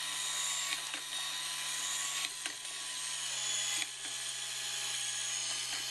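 A freshly polished Geneva gear mechanism spins on its shaft, giving a quiet, steady mechanical whir with a low hum and a few faint ticks throughout.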